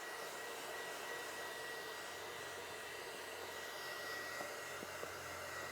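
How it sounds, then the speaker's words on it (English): A hair dryer blows steadily on a pastel and oil painting with a constant whooshing hiss and a faint motor whine, close by and unbroken throughout. "I'm going to take a hair dryer to it and get it to dry a little bit faster."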